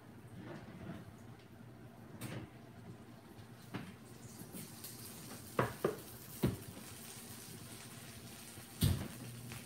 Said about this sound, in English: and this thing is sizzling,